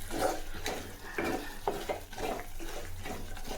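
Onions sautéed with salt in a pan for a village-style fish curry, with steady sizzling broken by repeated scraping stirs of a spoon against the pan, close by and fairly loud.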